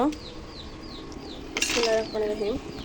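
Whole spices for a homemade shahi garam masala dry-roasted in a pan, with faint scraping and light metallic clinks of utensils against the pan, a bright clatter near the end, and nearby chickens heard softly in the background.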